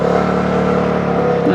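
A Vespa scooter engine idles and runs steadily at night, a loud close continuous rumbling drone with a steady hum, a voice talking over it.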